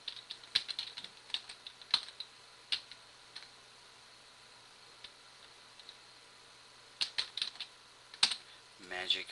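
A domain name is tapped out on a computer keyboard in bursts of quick, faint close clicks, separated by quiet pauses over a low steady hum.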